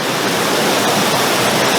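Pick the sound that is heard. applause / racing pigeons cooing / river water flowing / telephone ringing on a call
river water flowing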